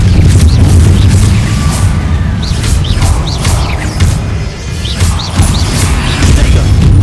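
A Confringo fire spell blasts in Hogwarts Legacy amid a loud, dense combat din, booming impacts and crashes layered over constant rumble, with small chirping effects scattered throughout.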